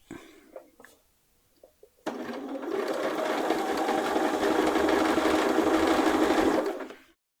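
After a few quiet clicks, a sewing machine starts abruptly and runs a loud, continuous whirring stitch for about five seconds while stitching in the ditch on a dress armband, then winds down.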